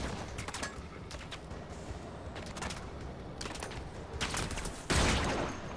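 Rapid bursts of gunfire from a weapon in the video game Warframe, several loud volleys with dense sustained fire at the end, over constant game ambience.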